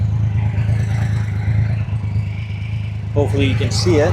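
A 2025 Triumph Rocket 3 R fitted with a Storm Werkes exhaust holds at 2,000 RPM, giving a steady deep engine drone close by; someone speaks briefly near the end.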